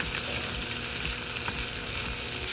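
Freshly flipped food frying in a hot pan while surf and turf cooks, a dense, even sizzle with a close, steady hiss and faint crackle throughout, no voices.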